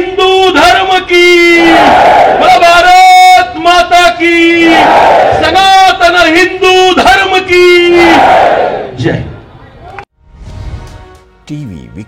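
A crowd at a Hindu religious gathering roars slogans in loud unison after a leader's calls, three long swelling chant waves that fade into quieter murmuring at the end.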